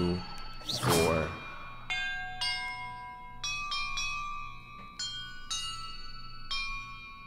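Bells rung one after another in the video game Hogwarts Legacy, a series of bright, sustained metallic tones in sequence after a brief whooshing sound, with no voices.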